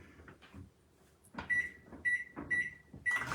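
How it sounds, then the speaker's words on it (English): Microwave oven being set to heat a stuffed-crust pizza, with a few soft clunks followed by four short, bright electronic beeps at a steady spacing, close and fairly loud. "we're just gonna put it like this in the microwave for 60 seconds"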